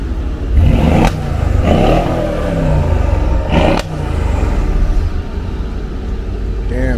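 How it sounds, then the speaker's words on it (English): A Mercedes GLS 63 engine revs as the SUV pulls up, a throaty rise and fall heard under a loud voice talking nearby. "Got the GLS 63 pull up."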